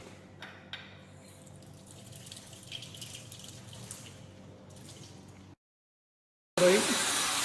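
Water runs steadily from a tap to rinse etchant off a nodular cast iron sample, a continuous hiss lasting about five seconds before silence and then a brief burst of noise.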